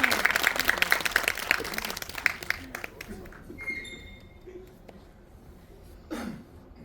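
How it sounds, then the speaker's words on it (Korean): Brisk audience clapping at a film screening Q&A in a Seoul cinema hall, strongest at the start and then thinning out, followed by scattered coughs and throat clearing as the room settles. "이명세 감독님과 변영주 감독님 한 박수로 맞이하겠습니다"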